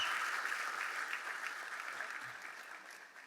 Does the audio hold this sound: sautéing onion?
no